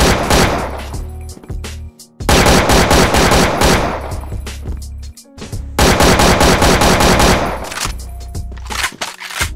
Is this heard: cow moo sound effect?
no